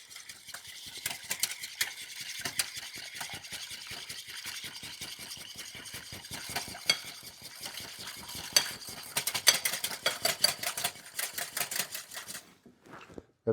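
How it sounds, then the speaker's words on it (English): A whisk beats eggs and vanilla paste in a bowl for an omelet, producing a steady, rapid run of light clinking and tapping strokes at close range that picks up toward the end. "now we just whisk it up"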